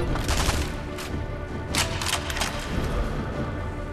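Gunfire in the video game Sniper Elite V2 comes as dense, rapid bursts of blind firing with sharp cracks over a steady battle din, loud and continuous with no talk.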